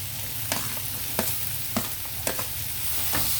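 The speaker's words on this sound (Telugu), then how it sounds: "ఒకసారి జస్ట్ కలిపేద్దాం." Capsicum and mixed vegetables fry in a pan with a continuous sizzle, while a spoon stirs them in several sharp scraping strokes about every half second, close up.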